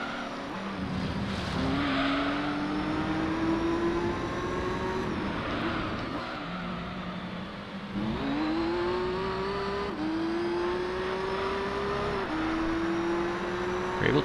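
A Honda NSX race car in Gran Turismo 3 drives hard, its engine revving up through repeated gear shifts. Tire squeal breaks in now and then, and another car runs close alongside.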